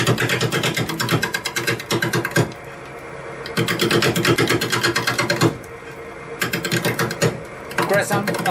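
A woodturning lathe spinning at 530 RPM during a one-on-one lesson, its loud steady whir broken into rhythmic rattling bursts as the tool bites, with quieter gaps between cuts and no talking.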